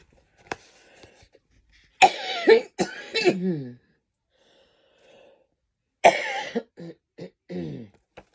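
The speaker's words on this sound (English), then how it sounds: "Sorry, I'm coughing so much." Several harsh coughs come in two clusters, each a rapid run of hacking bursts with brief pauses between, close and fairly loud, with a faint click early on.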